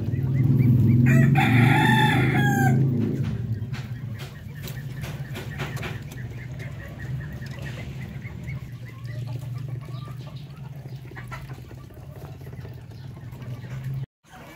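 Native Darag chickens on a farm: a rooster crows loudly up close at the start, then hens keep clucking softly and repeatedly while a person talks quietly over them.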